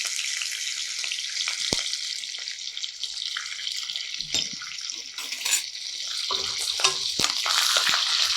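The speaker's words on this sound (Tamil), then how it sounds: "கொஞ்சம் தணலை குறைச்சிட்டு பூண்டு சேர்த்துக்கலாம்." Garlic sizzles steadily in hot oil in a pan, with curry leaves and asafoetida, on lowered heat while cooking a palak tofu rice dish; a continuous bright frying hiss with a few clinks and stirring knocks, no talking.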